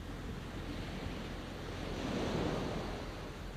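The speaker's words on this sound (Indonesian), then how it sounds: "Lihat ombak di sana. Tidak bosan-bosan menepis pantai sepanjang zaman." Ocean waves break on a beach in a steady, wind-blown wash of surf that swells slightly in the middle, with no voices.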